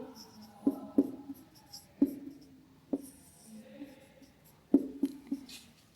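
Writing on a board during a Class 11 political science lesson: sharp, irregular taps and short strokes spaced across the clip, close and fairly quiet, with faint low murmuring in between.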